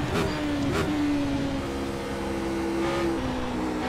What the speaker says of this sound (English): Picked up the throttle a little too early there.